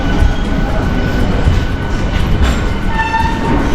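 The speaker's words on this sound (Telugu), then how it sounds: "Sirpur కాగజ్నట్టు Bodhan train arriving and platform" Sirpur Kagaznagar–Bodhan passenger train at Karimnagar railway station, a loud close rumble of rolling wagons with rattling wheels and a faint high whine near the end, no talk.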